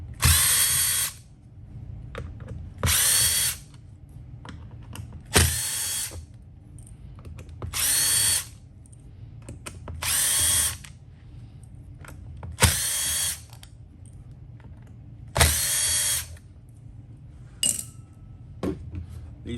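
Cordless power drill backing out the spine screws on the center driveshaft cover of a Traxxas XMaxx monster truck chassis, seven or eight loud whirring bursts spaced a few seconds apart, separated by faint clinks of screws and parts being handled.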